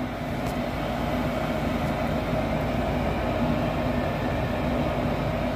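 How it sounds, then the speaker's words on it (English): Steady broadband whooshing drone from a home furnace blower running at its lower speed after ignition, continuous and even throughout with no talk. "I just heard the blower drop into its lower speed."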